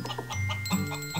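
Chickens cluck in the Dexter's Laboratory video game Clone A Doodle Doo, short, soft, game-style clucks over a steady background hum and tones, brief and fairly faint.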